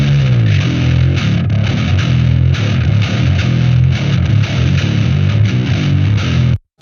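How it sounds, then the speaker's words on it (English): Gritty, heavily distorted bass guitar through the STL Tone Hub Filthy Bass preset from the John Feldman pack, played alone in a steady driving riff with dense fuzzy overtones and deep low end, loud and close throughout. "I actually used the STL Tone Hub John Feldman preset pack, preset number 39, called Filthy Bass,"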